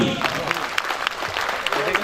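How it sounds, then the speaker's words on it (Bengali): Steady clapping from a crowd at a picnic children's competition fills the clip, with a voice speaking over it. "বাচ্চাদের অনুপ্রেরণার জন্য জোরে করতালি"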